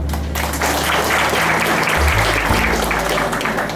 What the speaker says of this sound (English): I think we all deserve a clap for that